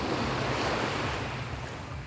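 High-tide ocean waves on a beach in Antique roll in as steady, loud surf with continuous broadband wash and some wind buffeting, with no voices.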